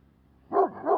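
Herd dogs barking around a dog named Tyson, two sharp close barks in quick succession after a quiet moment, loud and distinct.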